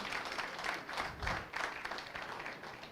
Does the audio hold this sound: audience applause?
yes